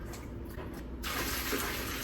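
Water runs steadily from a sink tap to fill a container for watering plants, a soft flow that swells louder partway through, with no talking.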